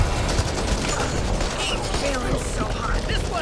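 Rapid bursts of gunfire crackle in the zombie shooter game Back 4 Brad, repeated shots layered under a player's voice over a dense, busy background.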